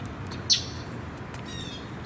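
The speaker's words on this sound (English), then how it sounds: "Now that bird is closer." A single short, sharp bird chirp rings out close by, standing briefly above a steady outdoor background hiss before fading back into the ambient noise.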